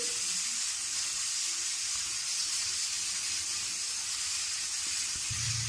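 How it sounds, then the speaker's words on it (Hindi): Flour and capsicum roasting in oil in a pan: a steady, bright hiss of sizzling runs throughout, close and even, with a faint scrape near the end and no voices. "मैदे को अब इसके साथ अच्छे तरह भून लेंगे।"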